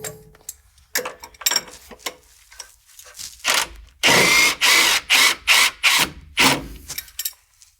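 A lower shock mount comes off the lower control arm of a Ram 1500 during a Bilstein 6112 shock install, with loud rapid bursts of ratcheting and tool clatter. Several short rattling runs precede a string of strong, evenly spaced ratchet bursts.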